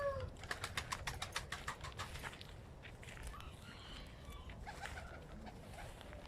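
Pigeons in a coop, with a quick run of sharp wing-clap flutters early on, then a steady low murmur of cooing and shuffling close by, with no voices.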